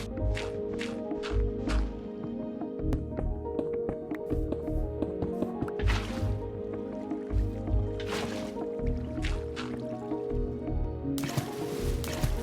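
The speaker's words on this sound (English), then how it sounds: "I wonder how many hours I've spent on turning all this dirt into mud" Blocks of dirt turned to mud in Minecraft, giving repeated soft wet squelching and dripping splashes in an uneven rhythm over a steady game background, close and moderately loud with no talking.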